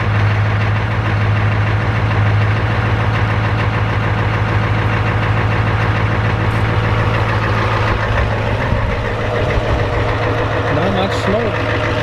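An old IDI diesel farm vehicle idles close by with a loud, steady low rumble and a knocking clatter, and voices talk over the engine now and then.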